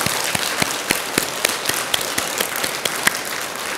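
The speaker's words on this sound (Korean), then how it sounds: "이 모든 분들을 위해서 큰 박수 한번 보내주시기 바랍니다." Temple congregation applauding at a Buddhist Saturday dharma service, a steady patter of many hands clapping for a few seconds with no voices over it.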